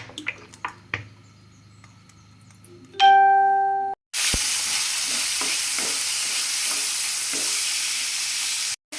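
Chopped okra for a stir-fry hits a hot pan with oil and bursts into a loud, steady sizzle that lasts several seconds, after a few light clinks and a short chime.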